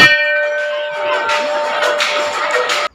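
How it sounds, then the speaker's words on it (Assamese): A temple bell at Doulgobinda temple in North Guwahati is rung during the Doul festival, giving several loud, close metallic clangs over a sustained ringing tone before stopping abruptly. "আৰু এফালে এবাৰ ঘণ্টাটো বজাই"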